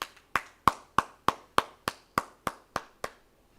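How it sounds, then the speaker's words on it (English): Ten sharp, evenly spaced hand claps during a scripture class, close and distinct, each with a short ringing tail in a quiet room. "So go ahead and give a hand clap for the Lord."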